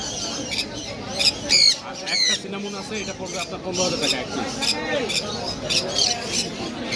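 Caged pet birds at the Mirpur bird market giving sharp, repeated squawks and chirps close by, with people talking over the busy chatter.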